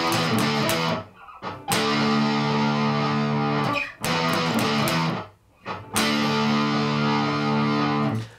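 A heavily distorted electric guitar chugs through a riff, loud and sustained, with a few short pauses where chords cut off before crashing back in, letting a D5 ring.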